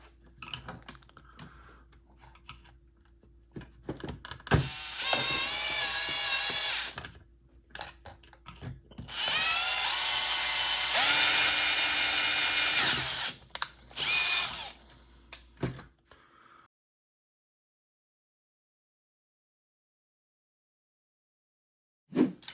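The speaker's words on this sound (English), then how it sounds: "And then move up to a bigger drill bit." Power drill boring with a larger bit during a Hasbro GPSTAR 2 wand kit install, in two sustained whining runs broken by short pauses and clicks, then silence near the end.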